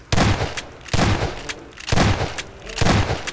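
Mini nuke bombs from the gbombs mod in Garry's Mod go off in four loud, booming blasts spaced about a second apart, each with a short crackling tail.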